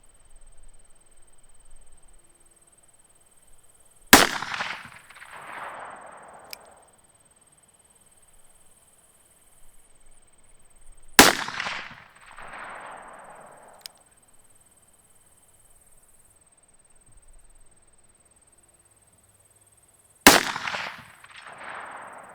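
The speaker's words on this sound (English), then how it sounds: "Let's do some shooting. 200 yards." A .22 Magnum revolver fired at a target 200 yards away in a wooded outdoor setting: three sharp, loud, isolated shots several seconds apart, each ringing out with a long echoing decay into quiet.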